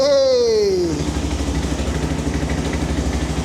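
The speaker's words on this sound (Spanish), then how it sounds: "Yo creo que ustedes van a sentir que la moto golpea, pero no golpea, es así. Es por el torque que tiene." Restored Suzuki DR 600 motorcycle, abandoned for 18 years, restarting: a falling rev sweep settles into a loud, steady, rhythmic thumping single-cylinder idle close by.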